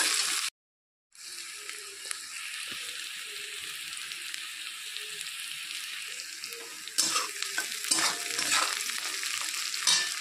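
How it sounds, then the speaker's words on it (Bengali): Onion and green chilli fry in oil in a pan, a soft steady sizzle broken by a brief silent gap. Stirring scrapes follow, with louder clattering strokes toward the end. "পেঁয়াজটা কাঁচা লঙ্কা একটু ভাজা ভাজা হয়ে এসছে"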